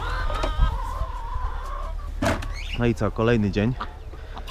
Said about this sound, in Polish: do pasieki kury z rana wpuściłem